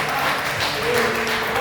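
A church congregation clapping their hands in praise during a worship service, with steady dense applause that holds at an even level throughout.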